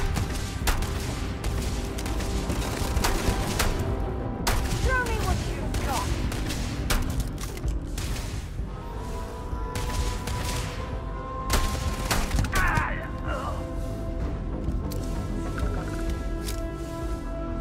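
Gunfire in the space game Starfield, with scattered sharp shots and bursts spread through a dense, continuous mix of game music and ambience, while a voice talks over it.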